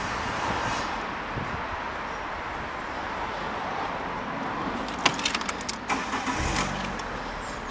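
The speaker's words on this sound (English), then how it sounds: "I'll just start the car for you now so you can hear it running." A 2012 Fiat 500 1.2 Lounge petrol engine: a background hum, then a short cranking burst as it starts, followed by a steady idle close by.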